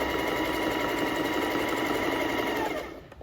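A domestic sewing machine runs a zigzag stitch through knit fabric, giving a steady, loud mechanical whir that holds for about three seconds and then winds down. No one speaks.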